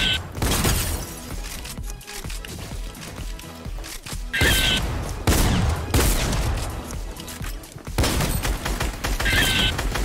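Fortnite arena match with rapid gunfire in bursts, cracking volleys and shattering hits, loud and close through most of the stretch, with short lulls between exchanges and no talk over it.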